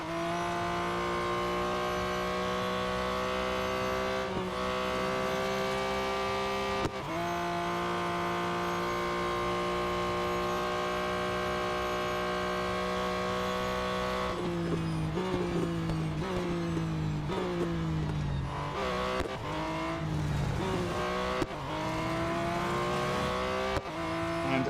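A race car in Real Racing 3 drives steadily for the whole stretch, its engine drone loud and continuous, with several shifts in pitch as it brakes and accelerates.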